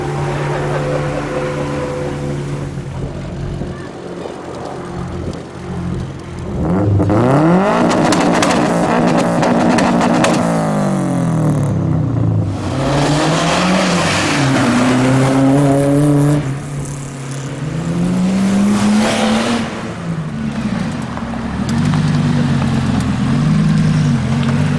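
A Ferrari Scuderia sports car pulls away at a track day, its engine revving loud and close with rising, shifting pitch through several gear changes and sustained roars over about twenty-five seconds.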